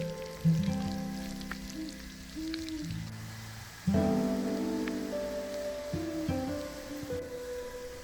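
Shallots sweat in melted butter in a pan, giving a soft, continuous sizzle beneath louder tonal background sounds that come and go.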